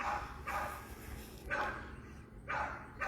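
A puppy barks in three short, evenly spaced yips about a second apart, fairly faint against a low background hum.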